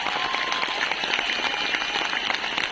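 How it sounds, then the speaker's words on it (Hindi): Steady audience applause filling a hall at a Modicare Azadi Celebration in Kolkata, a dense continuous patter of many hands clapping at moderate loudness. "big round of applause to you and your teams"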